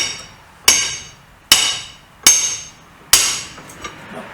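A BSA 350 motorcycle part held in a vise is struck with a piece of alloy, four loud ringing metallic knocks spaced under a second apart, each decaying quickly, close up.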